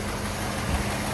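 A warming engine idles steadily while its idle mixture is being adjusted, a close, continuous low rumble with no talk over it.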